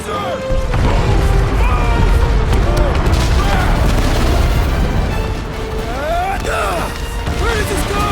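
Explosions in the video game Guardians of the Galaxy burst out in a loud, sustained cluster of booms and crashes with scattered debris, while characters shout over the blasts.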